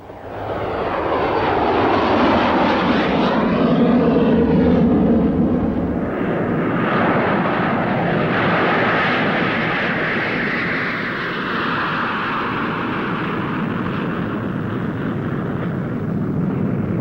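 Dornier Do X flying boat in flight over Lake Constance, a loud sustained roar of its aircraft engines that swells as it passes close, then settles into a steadier, slightly fainter drone.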